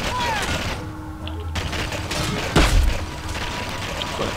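Gunfire from the video game Blacksite: Area 51 bursts out in a loud, dense volley midway through, over a steady din of game noise, with a voice speaking at points.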